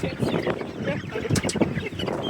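Chickens clucking as they are walked up a ramp into a trailer-mounted mobile coop, a busy flock close by with overlapping clucks and rustling throughout.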